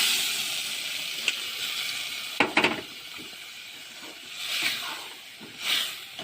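A pressure cooker with peas inside hisses steam in soft swelling bursts. Sharp clicks and rattles sound near the middle, and the hiss rises and falls without voices.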